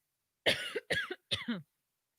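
Three sharp coughs in quick succession from a nearby person, each a short harsh burst, followed by silence.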